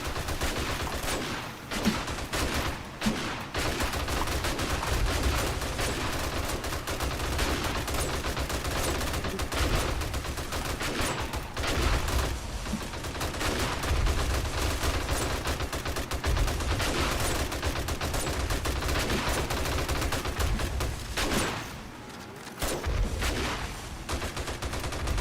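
Sustained gunfire in the 7 Days to Die survival game, dense rapid shots and bursts rattling almost continuously at a steady loud level, with a brief lull near the end.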